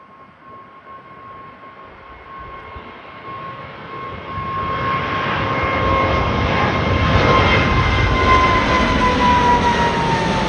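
Airliner departing overhead at London Gatwick, a jet roar building steadily from a distant whine to a loud, broad rumble as it nears, with a high engine tone sliding slowly downward.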